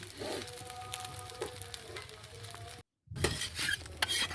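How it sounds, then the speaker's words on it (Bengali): Sim pitha, a Bengali pancake-style cake, frying in a pan after being flipped, uncovered, with a soft steady sizzle and occasional scraping and utensil clinks, broken by a brief silent gap partway through. "আবারও কিছুক্ষণ পিঠেটা ভেজে নেব"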